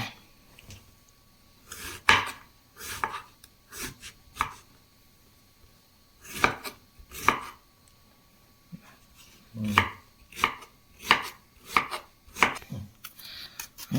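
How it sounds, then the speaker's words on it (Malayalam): Steady rhythmic chopping of a knife through eggplant on a board, in short bursts of several strokes with brief pauses, close and clear. "നമ്മുടെ വഴുതനങ്ങയൊക്കെ അരിഞ്ഞു വെച്ചിട്ടുണ്ട്"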